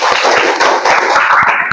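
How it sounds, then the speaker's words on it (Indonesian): A classroom of students claps their hands together in a dense, close, loud round of applause. Individual sharp slaps stand out within the steady patter, with no voices over it. "Kita tepuk tangan dulu."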